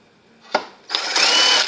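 A screw is driven into epoxy and carbon fiber by a power drill: a brief whir and thump, then a sustained close, loud high-pitched grinding buzz that runs steadily to the end.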